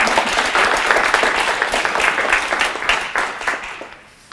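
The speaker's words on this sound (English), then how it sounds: "And let's give a round of applause to their tutors." Audience applause for tutors at a Project READ literacy awards ceremony, a steady wash of many hands clapping close and loud for about four seconds, fading slightly at the end.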